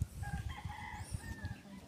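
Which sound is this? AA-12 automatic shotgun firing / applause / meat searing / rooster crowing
rooster crowing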